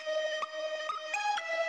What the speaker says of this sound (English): here's a string, but I put a vocoder on it and it sounds like this